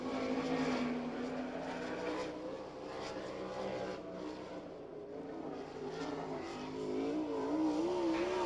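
A sprint race car at the All Star Circuit of Champions in Abbottstown, Pennsylvania roars through a qualifying lap, a steady loud engine drone rising and falling as it circles the track, no talk over it.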